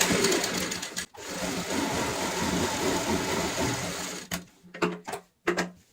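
A sewing machine runs steadily while top-stitching a strip onto a cushion cover, a continuous close mechanical whir with a brief pause, then stopping and restarting in short bursts near the end.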